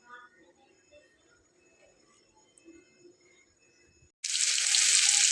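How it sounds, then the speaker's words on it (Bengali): Battered cauliflower snacks drop into hot oil and sizzle loudly and steadily from the midpoint on, after quieter kitchen clatter and faint background tones. "ঠিক এভাবে আমি হালকা করে এগুলোকে ভেজে নেব"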